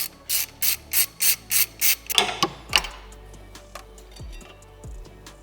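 A ratchet wrench loosening a 17 mm oil feed line fitting on a MAXpeedingrods turbo for a Nissan R34, giving a close, even run of about eight sharp clicks followed by slower scrapes and metallic ticks.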